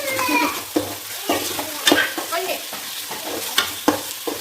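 Tomatoes sautéing in a pan for a biryani base, with steady sizzling and repeated stirring scrapes at close range. There is no speech.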